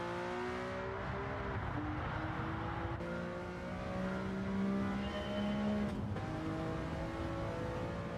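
Race car engine in Gran Turismo 7 accelerating through gears, a loud close revving whine that climbs and drops with shifts, continuous and without speech.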